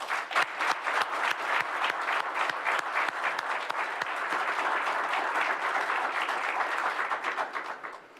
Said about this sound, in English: Ladies and gentlemen, please join me in one final round of applause to the 2023 Military Child of the Year semifinalist from North Carolina.